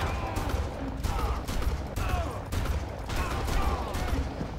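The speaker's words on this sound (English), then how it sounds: "Shotgun." Shotgun fire in the Far Cry video game, several heavy blasts spaced out over a constant rumble of battle noise.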